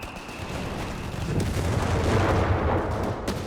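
In Company of Heroes 3, an anti-tank gun fires amid a dense, loud battle din, with heavy booming reports and continuous rumbling gunfire that swells midway.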